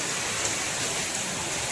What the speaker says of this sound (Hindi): बारिश और ज़्यादा तेज़ हो गई है